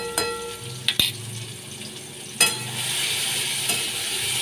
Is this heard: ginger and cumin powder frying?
yes